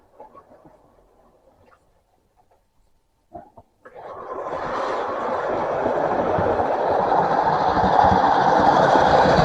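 A model railway train runs on its track, starting after a few faint clicks and building into a steady rolling rumble with rail clatter that grows louder as it approaches.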